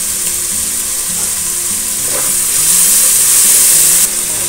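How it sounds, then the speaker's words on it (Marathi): Onion sizzles steadily in a hot pan for veg fried rice, a dense, loud frying hiss with faint stirring scrapes and no voices. "आता आपण कांदा शिजायला टाकलाय, आता थोडं त्याच्यामध्ये मीठ टाकूया म्हणजे कांदा लवकर शिजेल।"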